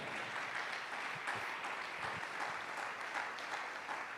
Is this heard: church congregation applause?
yes